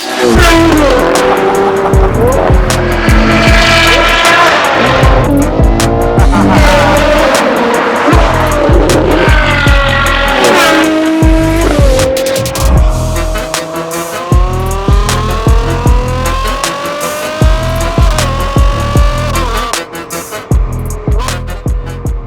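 A Novitec-tuned Ferrari Purosangue V12 with a redesigned exhaust and new tips roars loudly up close, revving repeatedly in rising and falling sweeps, with sharp bursts and a brief tire-squeal edge.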